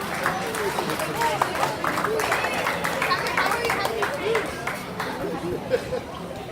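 Banquet guests at an athletics awards dinner applaud together, a dense patter of hands blending with loud crowd chatter and voices throughout.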